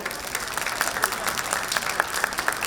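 One team of an apartment festival audience claps on cue, producing a sustained wash of crowd applause with sharper individual claps popping out, fairly loud and continuous with faint voices underneath.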